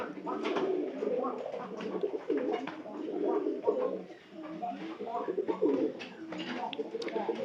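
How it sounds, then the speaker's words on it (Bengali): Many pigeons cooing steadily in a loft, overlapping soft throaty coos forming a continuous murmur from several nearby birds throughout, no talk. "আপনারা একটু দেখেন কবুতর কিন্তু অনেক ডাকাডাকি করতেছে আজকে"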